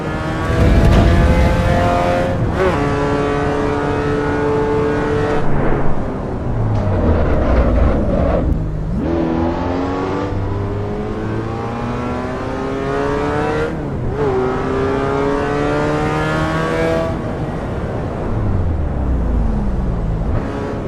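A car engine in a racing video game revs and climbs repeatedly through the gears, loud and continuous, with pitch rising and dropping at each shift.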